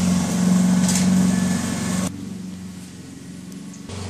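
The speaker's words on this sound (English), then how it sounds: "So there she is running the mower." A lawn mower drones steadily nearby with a strong low hum, then drops to a quieter, lower idle partway through and keeps running.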